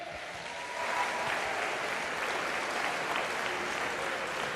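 Audience at the Miss Gibraltar 2019 beauty pageant breaks into steady, sustained applause and cheering that swells after a brief quieter opening and holds evenly throughout, a dense wash of clapping hands filling the hall.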